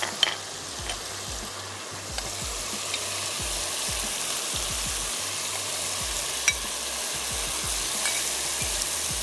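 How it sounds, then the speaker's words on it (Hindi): Boiled boneless beef sizzles and fries in a pan of biryani masala with plums, nutmeg and mace, a steady close crackle with scattered stirring scrapes and spatula taps throughout. "अब शामिल कर देते हैं इसमें बॉईल हुआ हुआ बीफ।"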